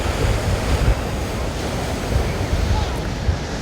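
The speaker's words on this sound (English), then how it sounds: "Now the sea's quite rough today." Rough sea waves wash and crash continuously along the Aberdeen coast by the promenade, a loud, dense roar mixed with gusty wind buffeting the microphone.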